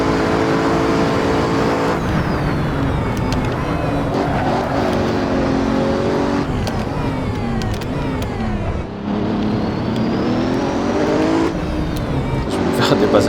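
A Bugatti Chiron driven in the Assetto Corsa VR racing game, its engine revving hard and continuously with rising pitch sweeps and several gear changes, punctuated by brief tire noise.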